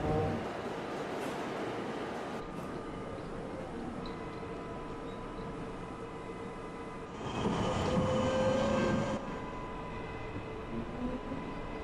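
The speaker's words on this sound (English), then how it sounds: "There's a train right on top of me." A subway train on the H and S lines at a station, with steady rumbling and rail noise throughout and a louder surge of wheel and car noise toward the end.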